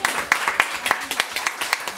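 Audience applauding at a 25th-anniversary literary celebration in Lanaudière, with a thin, scattered patter of claps, sharp individual hits rising above a steady soft wash throughout.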